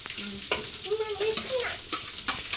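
Peanuts dry-roasting and being stirred in a pan for a home breakfast, with a steady soft sizzle and scraping stir strokes close up, no talking.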